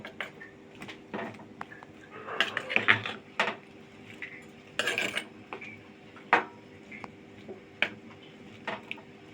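Mung and masoor lentils stirred in a clay pot, with irregular scraping and clinking knocks of a spoon against the pot, close-up, some louder clatters among quieter taps.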